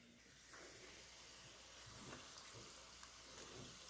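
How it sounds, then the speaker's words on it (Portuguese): A coxinha fries in oil over low heat, giving a soft steady hiss with faint scattered crackles and small pops, quiet and close with no talking. "Enquanto isso, a coxinha tá fritando."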